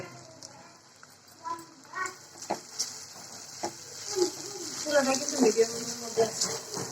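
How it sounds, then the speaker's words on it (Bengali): Onions fry in a pan over a medium flame, a soft steady sizzle with scattered stirring scrapes and taps growing busier toward the end, fairly faint and close. "আর পেঁয়াজটাকে আমরা একটু ভেজে নিব।"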